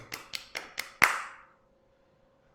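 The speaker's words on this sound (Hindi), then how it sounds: "तालियां बजाओ सब।" A few sharp, isolated claps in a slow rhythm, about five in quick succession with the last one loudest, followed by quiet.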